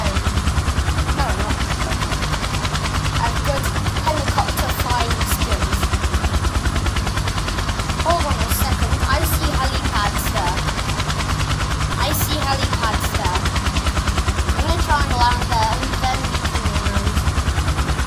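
Helicopter flying and going down in the P.T.F.S flight game, a loud continuous rotor chop throughout with rapid rhythmic thudding beneath, while voices talk over it.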